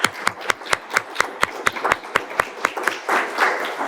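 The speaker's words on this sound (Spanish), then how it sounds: "Un aplauso a todos mis invitados." A few people in a television studio audience clap for the guests of a season-finale show, giving a sparse, fairly steady run of sharp claps at an even pace, with a louder wash of applause toward the end.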